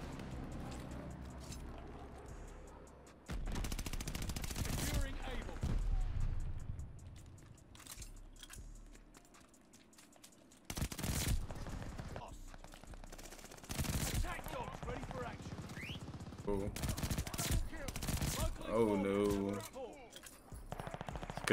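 Bursts of automatic gunfire from a Call of Duty Vanguard match come in several loud separate volleys with quieter gaps between them, over a low game background.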